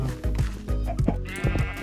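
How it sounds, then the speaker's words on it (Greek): Sheep in the Minecraft video game bleating repeatedly, several short wavering cries in quick succession, clear and close over game background sound. "Ένα πρόβατο."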